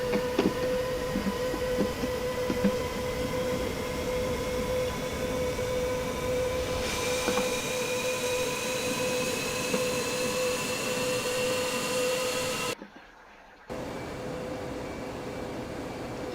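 A jet aircraft's engine runs in the DCS World flight simulator game, a steady whining drone with rising tones, briefly cutting out before resuming.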